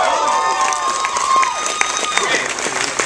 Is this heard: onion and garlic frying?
no